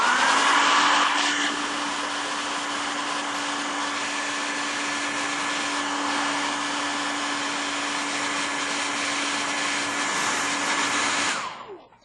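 A blow dryer runs steadily to dry paint on a Buddhist figure painting, a loud continuous whooshing whine held for about eleven seconds before it cuts off at the end.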